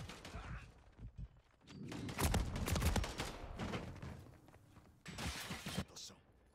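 Gunfire in Call of Duty Modern Warfare III, several bursts of shots and rapid fire in a firefight, with a player's voice talking over the action.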